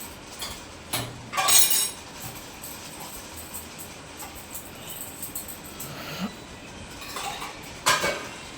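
Intermittent clinks and clatters of dishes and cutlery being handled in a sink, with brief bursts of splashing between quieter moments.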